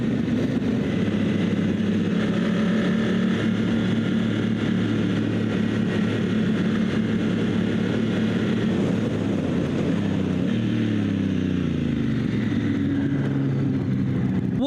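A dual sport motorcycle on Kenda K784 Big Block tires rides off-road with a continuous engine drone and light throttle. The pitch shifts near the end as the revs change.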